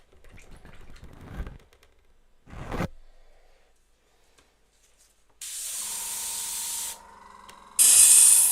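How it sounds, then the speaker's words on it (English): An airbrush sprays paint onto a Warhammer 40k miniature in short, close hissing bursts, with a few brief puffs early on followed by sustained loud hisses near the end. "that's enough airbrushing"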